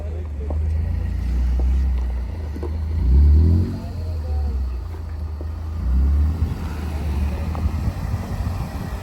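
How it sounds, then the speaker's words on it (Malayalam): Off-road jeeps arrive one after another on a rough trail in Kasaragod, their engines rumbling loud and low with surges as each vehicle draws near, mixed with wind buffeting the microphone. "ഓരോ വണ്ടികളായിട്ട് ഇങ്ങനെ വന്നുകൊണ്ടിരിക്കുന്നുണ്ട് കേട്ടോ"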